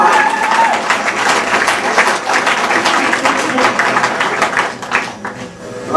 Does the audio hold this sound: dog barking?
no